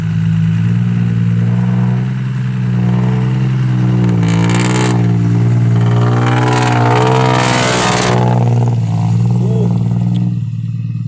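A car engine revs in second gear, a loud, steady droning growl that swells and shifts pitch over several seconds before easing off near the end.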